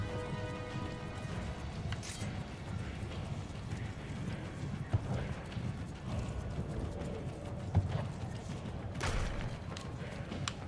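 Horse hooves clip-clop in steady rhythm in the video game Assassin's Creed Brotherhood, moderately loud over a background wash with a couple of sharp knocks.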